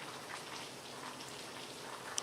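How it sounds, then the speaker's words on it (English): Heavy rain from Hurricane Milton pours down as a dense, steady hiss of drops hitting surfaces, continuous and even throughout with no voices. "the rain is pounding"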